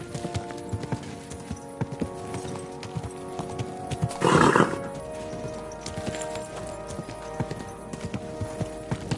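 Horse hooves clop steadily throughout, with a short, loud horse whinny in the middle, all quite distant and even, in the video game Kingdom Come: Deliverance 2.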